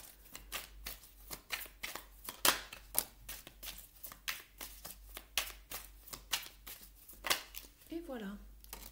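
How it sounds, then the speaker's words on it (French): Tarot cards shuffle in repeated soft riffling bursts, a steady rhythm of papery flicks close to the microphone, with a brief voice near the end. "je laisse sauter les cartes et je suis à vous dans quelques secondes"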